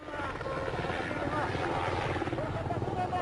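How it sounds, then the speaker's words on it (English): Helicopters and a plane circle overhead above a hillside held by armed militants, giving a steady, loud rotor thrum that continues throughout, with muffled voices underneath. "A plane and helicopters circle overhead as militants dot the hillside, armed with rocket launchers."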